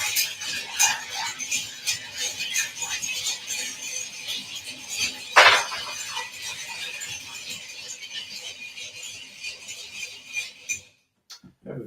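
A spoon stirs a cocktail with ice in a glass, giving repeated clinks and scrapes at close range that run steadily across the clip, with one sharper knock midway and a brief quiet at the end.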